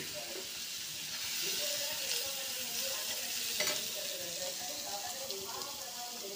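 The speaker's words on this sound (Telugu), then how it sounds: "సిమ్లో పెడుతున్నాను, సిమ్లో పెట్టి ఫ్రై చేసుకున్నాము" Small carrot frying in a pan over a low flame, giving a soft, faint sizzle with occasional stirring scrapes while a person talks throughout.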